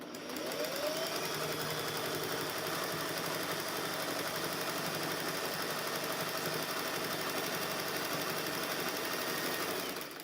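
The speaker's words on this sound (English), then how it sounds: "this is going to be the first time you've seen me sewing on this" A freshly restored sewing machine runs steadily, stitching flannel and batting for a rag quilt, its loud continuous motor hum and rapid needle clatter unbroken from start to finish.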